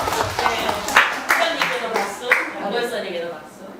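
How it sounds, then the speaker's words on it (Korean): A small audience at a book talk for a children's picture book author claps in scattered, irregular bursts under ongoing talk and laughter. "박수"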